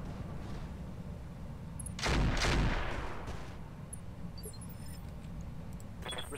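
A broad burst of gunfire in the Roguetech mech game, likely the Hetzer's machine guns firing, hitting a loud rolling peak then fading into low background rumble, with no talk.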